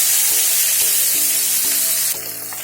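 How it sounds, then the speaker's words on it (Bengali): Katla fish frying in hot oil, a loud, steady broadband sizzle that fills the whole stretch, with a few faint low clicks and a slight drop in intensity near the end; no voices. "পরিমাণ মতন তেল নিয়ে তেলটা গরম হয়ে তাতে মাছটা ভেজে নেব"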